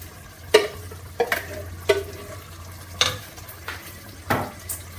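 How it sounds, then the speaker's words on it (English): Pasta sauce being stirred into mince frying in a pot: a steady sizzle with a low hum beneath, broken by repeated sharp scrapes and clinks of a utensil against the pan, close and without speech. "And just stir it in."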